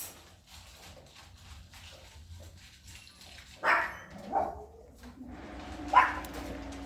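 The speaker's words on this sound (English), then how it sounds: "Only 2 barks is pretty good for him." At a dog training school, a dog gives a few short yips and barks, a couple in quick succession and another a moment later, moderately near over quiet room noise.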